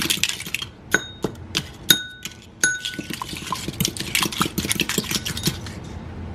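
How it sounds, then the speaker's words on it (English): A fork whisks an egg in a bowl, giving quick, bright clinks against the bowl with soft wet sloshing in a fast, uneven rhythm, close and loud, and nobody speaks. "take a fork or something, and just kind of mix it up a little bit"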